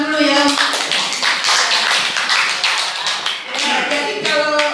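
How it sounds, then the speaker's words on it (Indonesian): Audience applause at a foundation election assembly in an Indonesian hall, with a burst of many hands clapping continuously and loudly while someone speaks over it. "Tepuk tangan dulu ya."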